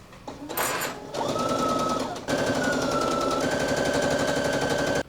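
A sewing machine stitches fabric for a summer garment with loud, steady mechanical whirring in bursts: a short run, a brief stop, then a long continuous run that shifts slightly in pitch.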